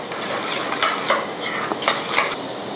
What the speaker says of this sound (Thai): จากนั้นนะคะคนส่วนผสมทั้งหมดนะคะให้เข้ากัน คุณผู้ชมจะต้องคนจนน้ำตาลละลายนะคะ